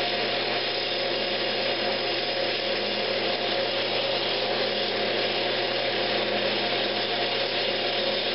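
Sanding a turned wooden Christmas ornament as it spins on a woodturning lathe, a steady, dense, continuous rubbing hiss at close range that does not let up and has no voices.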